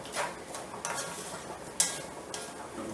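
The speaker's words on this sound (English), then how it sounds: "I need my onions to cook, to saute, and then I'll put the garlic in it," Onions sautéing in a pan for smoky corn chowder: a steady close sizzle with a few soft stirring scrapes and one sharper clink of utensil against the pan.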